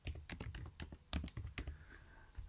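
Rapid, uneven keystrokes on a computer keyboard as an email address is typed in, close and clear with brief pauses between bursts.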